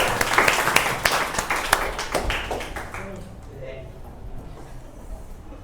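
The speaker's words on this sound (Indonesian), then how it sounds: "Tepuk tangan dulu untuk Hilga." Classmates clapping for a student called to the front of a classroom during an informatics micro-teaching lesson, a short burst of applause that dies away after a few seconds into quieter room sound.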